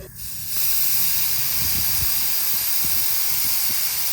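Air suspension on a bagged Skoda Fabia vRS is deflated. After a brief quieter start, a loud, steady rush of escaping air hisses on without a break, close by.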